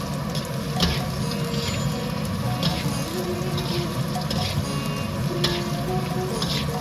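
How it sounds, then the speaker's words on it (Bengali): Green chillies fry with onions in a pan, giving a soft, continuous sizzle with occasional scrapes and taps of stirring, fairly faint and without speech. "পেঁয়াজটা হালকা ভাজা হয়ে আসলে তার মধ্যে 6 থেকে 7টা কাঁচা লঙ্কা দিয়ে দেওয়া হচ্ছে।"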